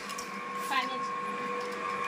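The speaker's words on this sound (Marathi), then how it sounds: "कसली मोटर चालू आहे ग?" An electric motor runs steadily in a home kitchen, a constant mechanical hum with a faint whine throughout, under nearby voices talking.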